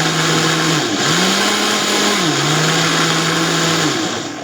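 A blender blending tomatoes for juice whirs loudly and continuously, its pitch dipping and rising a couple of times as the speed shifts.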